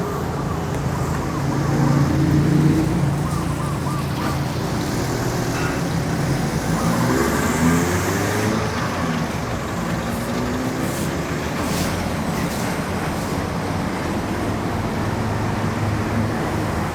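Steady road traffic on a Bangkok street, with vehicles and a passenger van slowing nearby, heard from a bicycle; a continuous mid-level rumble and hiss holds for the whole stretch with no talk.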